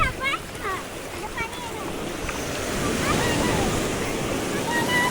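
Sea waves roll onto the shore at Malvan, a broad churning surge that builds toward the end, with wind buffeting and children's voices calling over it.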